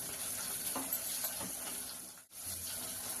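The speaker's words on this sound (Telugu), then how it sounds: "ఇవన్నీ పచ్చివాసన పోయేదాకా వేయించుకున్నాము." Chopped onions and curry leaves fry in oil in a pressure cooker for a simple biryani, giving a steady, quiet close sizzle with a few stirring scrapes and a brief dip near the end, with no voices.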